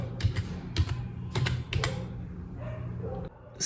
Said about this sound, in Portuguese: E aqui agora eu posso digitar numa boa.